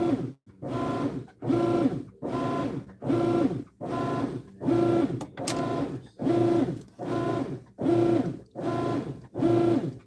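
Rhythmic machine pulsing in regular bursts about every 0.8 seconds, a pump-like hum repeating steadily and fairly loud, with no voices.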